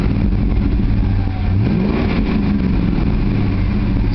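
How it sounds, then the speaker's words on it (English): A 2001 Ford Mustang GT with stock exhaust revs up close and loud, its deep V8 rumble rising and dipping in pitch and holding a steady growl throughout. "Stock exhaust sounds pretty good, I gotta tell you."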